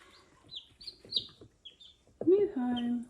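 Young chickens, about eleven growing pullets and cockerels, peep in high thin chirps and then let out a lower clucking trill, close by and intermittent.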